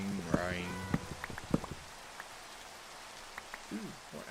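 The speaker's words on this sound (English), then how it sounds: "And of course it's raining." Rain falls steadily in the blocky survival game Minecraft, a soft constant patter and hiss beneath a person talking, with a few tonal game sounds near the start.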